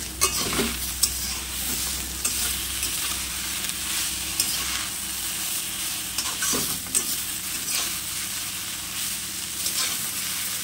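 Pumpkin leaves fry loudly in an oil-filled pan in a village kitchen, a dense continuous sizzle with scattered stirring scrapes and clinks up close, no speech.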